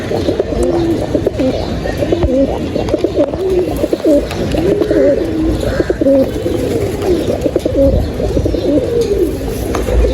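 Pigeons of a good breed kept for sale coo continuously and close by, layered throaty rolling calls overlapping for ten seconds, with occasional faint chirps and no talking.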